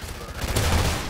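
Ripper SMG fire in Call of Duty Ghosts on Xbox One: one short, dense burst of rapid shots, loud and close, over a low rumble.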